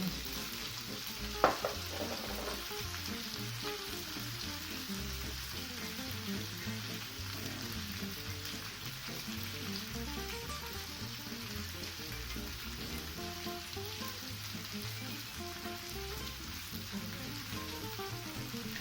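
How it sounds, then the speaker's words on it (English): Tomato paste frying in a pan before fresh tomatoes go in, giving a steady close sizzle with stirring scrapes and one brief louder clatter near the start, continuing alone throughout. "So now before we add the fresh tomatoes, I'd just like to fry off the tomato paste."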